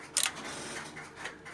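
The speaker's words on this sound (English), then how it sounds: "you'll see some of the relays operate when I go off hook" Western Electric 1A1 key telephone system relays clicking as the line goes off hook: a sharp mechanical clatter near the start, then faint ticking and a low mechanical hum from the equipment.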